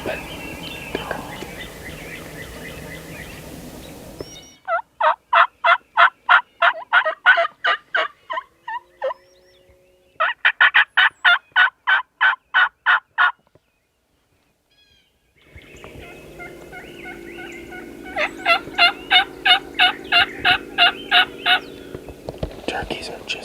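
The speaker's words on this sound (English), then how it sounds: "Turkeys are just over this rise right here." Wild turkey toms gobble on a frosty morning in a big open field, loud rapid rattling bursts repeating in three runs with a short silent gap between, and a faint hiss and whisper-like noise around them.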